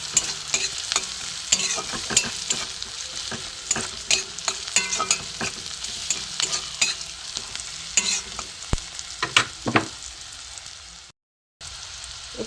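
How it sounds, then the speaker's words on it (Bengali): Bitter gourd sautéed with chili, cumin, coriander and turmeric powder in a pan, a steady sizzle under repeated close scraping and stirring strokes of a spatula, brief pause near the end, no talking. "লঙ্কার গুঁড়ো, জিরের গুঁড়ো, ধনের গুঁড়ো, সব দিয়ে আমি একসাথে এটাকে কষিয়ে নেব।"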